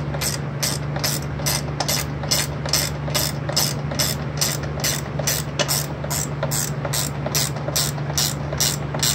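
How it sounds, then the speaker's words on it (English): Ratchet wrench turning bolts on a Craftsman DYT 4000 riding mower in a shop, a steady, rapid series of close, even ratcheting clicks over a low hum. "Ratchet wrench, of course."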